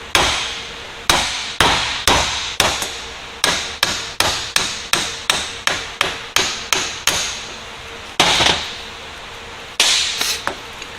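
Hammer blows knock out a U-joint cap on a third-generation Toyota 4Runner driveshaft. About eighteen sharp, close metallic strikes fall in an uneven rhythm, each ringing briefly.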